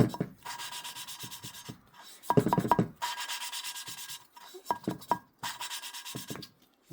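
An engine valve is hand lapped against its cylinder head seat, a close, steady gritty rubbing in repeated strokes lasting about a second each, broken by brief pauses and light taps as the valve is reseated.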